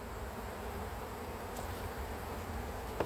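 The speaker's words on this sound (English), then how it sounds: "this is where the bees start getting upset" Agitated honey bees buzzing around an opened hive during a beekeeping inspection, a dense steady drone filling the whole stretch at moderate level with no talk, plus a brief sharp click near the end.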